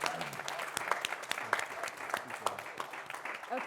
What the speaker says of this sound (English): So round of applause for Jonathan.